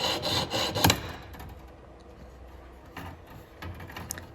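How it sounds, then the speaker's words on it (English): A jeweler's saw cuts through metal for a hair fork in quick, rasping back-and-forth strokes, brisk at first, then pausing before a few quieter strokes, close and fairly faint. "I'm just using my jeweler's saw to cut this"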